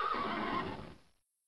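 A single loud, close horse neigh, used as a story sound effect, trembles and fades out within about a second, followed by silence.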